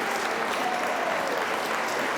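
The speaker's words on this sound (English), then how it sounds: "that's a loud cheer for a relatively local Whippet" Audience applause at a dog show as Best in Show results are announced, a steady, dense wash of clapping from a large indoor crowd, continuous and fairly loud throughout.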